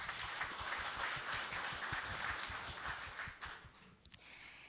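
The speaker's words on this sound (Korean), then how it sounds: "박수 부탁드립니다." Steady crowd applause at an award ceremony in Busan, many hands clapping densely and evenly before thinning out near the end.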